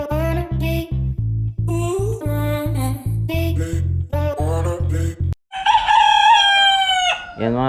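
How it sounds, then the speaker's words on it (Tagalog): A white rooster crows loudly and close in repeated calls, with clucking between them and a steady low droning hum underneath during the first part. "masyado galit sa akin itong puting manok na to"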